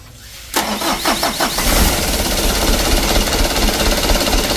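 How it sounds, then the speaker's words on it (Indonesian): Mitsubishi Canter truck diesel engine: a burst of starter cranking with rhythmic pulses, then the engine catches and settles into a loud, steady rumbling idle. "Starternya serasa panjang teman-teman ya, dan juga guncangan mesin seperti ini"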